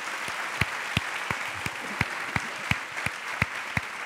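Standing ovation at a panel session of a formative stand-up event, a dense, steady wash of audience clapping lasting throughout, with sharp individual claps popping out above the crowd.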